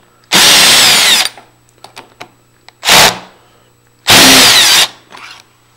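A power drill runs in reverse to back two screws out of a door lever handle plate, with three loud whirring bursts separated by pauses filled with small clicks and handling noises.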